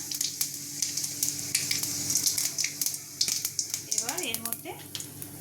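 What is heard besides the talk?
dry red chillies and panch phoron frying in hot oil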